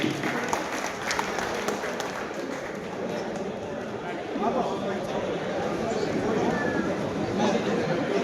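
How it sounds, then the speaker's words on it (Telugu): A crowd claps for prize-winning Ganesh festival committees at an awards event, a dense patter of applause mixed with chatter and voices throughout. "అందరూ ఒక్కసారి చప్పట్లు పెట్టండి"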